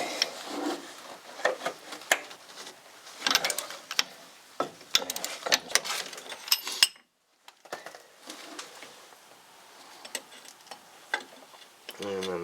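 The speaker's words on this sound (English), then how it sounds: "I have to put a little extension on the end of the ratchet" Ratchet with an extension working loose a brake caliper bolt on a GMC Sierra, rapid clicking bursts and metallic scrapes up close, a brief pause midway and then more intermittent clicks.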